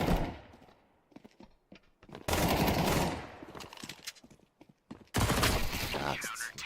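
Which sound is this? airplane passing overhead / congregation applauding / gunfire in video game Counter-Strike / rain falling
gunfire in video game Counter-Strike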